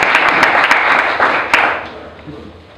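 An audience at the Salinas Valley AG Tech Summit breaks into dense, steady applause welcoming a speaker, the clapping loud at first and then tapering off toward quiet.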